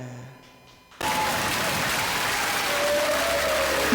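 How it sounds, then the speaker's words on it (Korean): Audience at a televised trot music show breaks into applause after a quiet moment, a sudden onset of dense, steady clapping that continues loudly to the end, with a faint tonal sound underneath. "여러분 큰 박수 부탁드리겠습니다"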